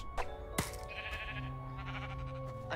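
A sheep in the Minecraft video game bleats twice in quick succession, the calls clear and fairly close over a steady backdrop of game ambience and music.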